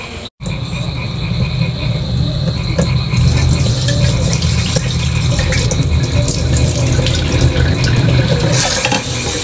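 Rice and lentils being washed in a sink under a running tap, a steady close stream of splashing water after a brief break at the start, continuing without talk.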